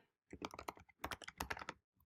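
Fast, close clatter of computer keyboard keys typing a website address, two dense runs of clicks separated by a brief pause, then a single final tap.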